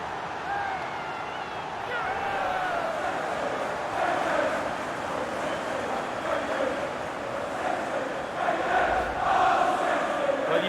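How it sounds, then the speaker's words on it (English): Stadium crowd in FIFA 19 roaring after a Manchester City goal in a Champions League final against Real Madrid, a dense sustained cheer rising in waves under commentary. "And a goal for City! The crowd have gone crazy, and quite rightly so."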